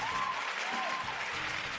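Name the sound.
audience applause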